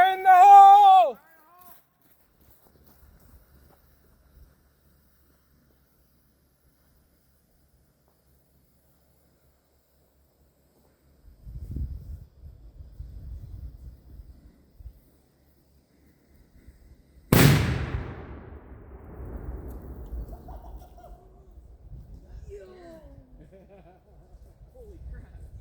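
A signal cannon fires outdoors with one sharp, loud boom that trails off into rumble, coming after a short shout and a long quiet wait, with people murmuring and talking afterward.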